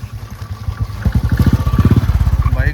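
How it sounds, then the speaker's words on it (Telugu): Motorcycles pass on a road during a trip from Hyderabad to Kodaikanal, their engines giving a close, loud, rapidly pulsing rumble that builds and holds steady. "బైక్లు ఎట్లా ఉండగలగా పోతున్నాయి"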